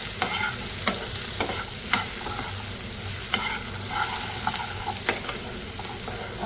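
A spoon stirs chickpeas with Kashmiri red chilli and chaat masala in a pan for chana pulao, sending out sharp scraping clinks at a steady pace over a soft, constant sizzle.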